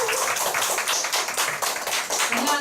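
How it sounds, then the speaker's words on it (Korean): Seminar audience clapping briskly for a few seconds as a presenter is invited up, close, loud and uneven, with individual claps standing out. "큰 박수 부탁드릴게요"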